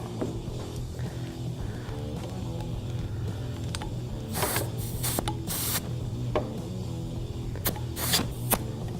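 A steady hiss of gas flowing from a canister into a tire, under a low mechanical hum, with sharp clicks and bursts of spray partway through.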